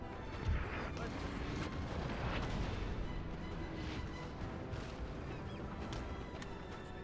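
Sustained rumbling battlefield din of artillery fire in the strategy video game Napoleon Total War, a dense continuous roar with scattered booms throughout, steady and fairly loud.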